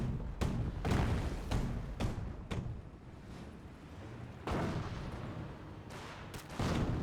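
Artillery and gunfire from a Company of Heroes match, a series of sharp booming shots at irregular intervals over a low rumbling battlefield, fairly loud and close with no talk.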